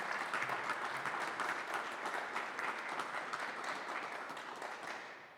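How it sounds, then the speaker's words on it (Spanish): At an honorary doctorate ceremony, an audience claps steadily in a broad, even wash of applause that continues for several seconds and then tapers off. "Un aplauso, por favor"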